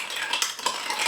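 A spoon stirs a beer cocktail in a glass, giving a brief, close, continuous clinking swirl for about a second with no voices.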